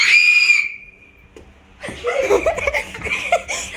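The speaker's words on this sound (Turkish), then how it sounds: "balkonda çığlık at. Aa diye bağıracaksın." A person screams a drawn-out "aa" from a balcony during a truth-or-dare game, a piercing high cry that fades into a thin tail, followed by a burst of close laughter and giggling.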